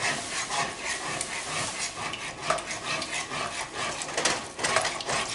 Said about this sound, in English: Spatula, give yourself a little scrape to deglaze, as I like to say. Deglaze the bottom of this pan.